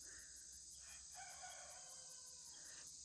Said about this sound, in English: if y'all hear that little pitiful crow, he's working on it